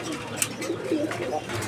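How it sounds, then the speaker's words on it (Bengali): Pigeons coo at a pigeon farm, soft low burbling calls close by, over a faint background murmur. "দেখেন কবুতর।"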